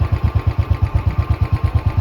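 A motorcycle engine idles close by as it is parked on a snowy mountain road in Himachal, a steady low, even chug with regular pulsing beats and no voices.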